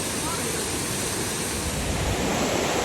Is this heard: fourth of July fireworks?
no